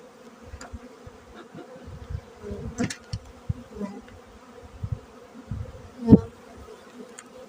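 Honey bees on hive frames drone in a steady low hum close up, with occasional louder buzzes and soft knocks of handling.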